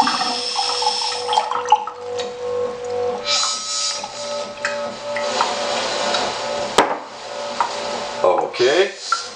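Water running and splashing into a container while hemp milk is being prepared, a steady pour lasting most of the moment with clinks and kitchen handling sounds near the end.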